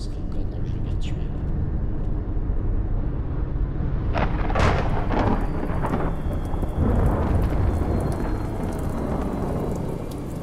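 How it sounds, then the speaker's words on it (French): Steady rain pours onto surfaces while thunder rumbles and cracks repeatedly through the middle of a stormy spell, loud and close, with no talking. "J'aime la pluie et les orages."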